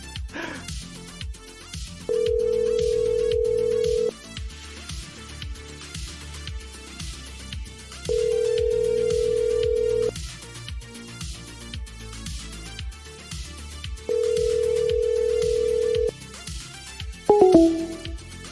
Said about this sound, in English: Seriously, how long can a phone ring for?